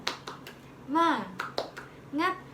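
A classroom of children does a spirit clap, a few quick crisp hand claps alternating with short chanted calls from young voices, close and lively.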